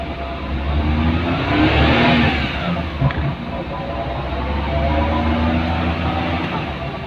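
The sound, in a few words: Maruti 800 car engine running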